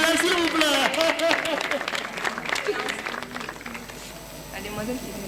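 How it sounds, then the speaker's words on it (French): Audience applause and cheering at a school singing competition semi-final, loud at first and then thinning, with voices calling and talking over the clapping. "On applaudit pour elle, s'il vous plaît."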